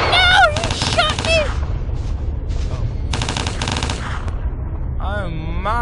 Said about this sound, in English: Ah, no! He shot me!